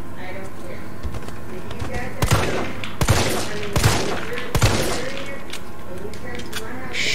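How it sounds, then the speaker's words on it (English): Shotgun blasts aimed at zombies in the Resident Evil 3 demo video game: four loud, separate booming shots spaced about a second apart over steady game ambience, with someone talking. "I'm wasting a shotgun shell on you"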